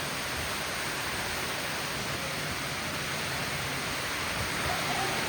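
Heavy cloudburst downpour drumming steadily as a dense, unbroken broadband roar, close and loud throughout with no voices.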